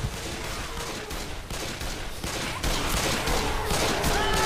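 Dense, continuous gunfire from the video game Left 4 Dead 2 runs as a steady loud barrage of overlapping shots with no pauses.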